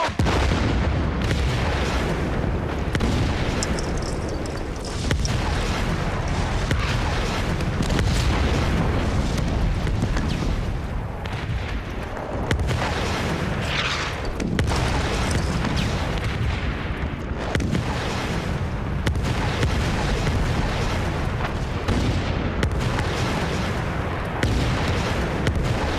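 Heavy artillery bombardment on a 1945 Gothic Line battlefield, a continuous roar of booming explosions and rumbling blasts, loud and dense throughout with no gaps.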